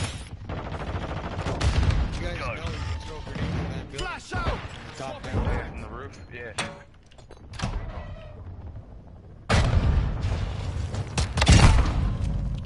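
Gunfire in a video game comes in bursts of rapid shots alongside mechanical clatter, with a heavy, loud stretch of fire near the end. Voices talk over much of it.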